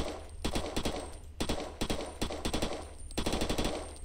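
Rapid machine gun fire in a zombie video game, shot at a Mega Zombie, comes in loud, close sustained bursts with brief gaps between them and no talking.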